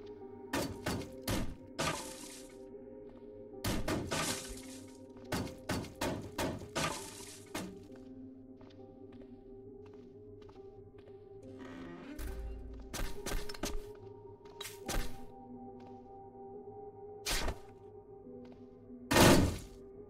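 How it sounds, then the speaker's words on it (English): A desk is smashed apart in the video game Cataclysm: Dark Days Ahead with repeated sharp cracking and splintering hits in quick bursts, then scattered single impacts and a final loud crash, close and with no voices. "but let's break this desk too."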